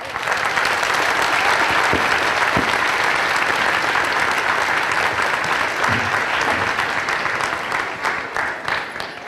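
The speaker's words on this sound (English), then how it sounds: "Let's give one more big round of applause." Steady applause from a school concert audience honoring the senior class at a strings festival, sustained and full for about nine seconds, with faint voices and a few knocks underneath.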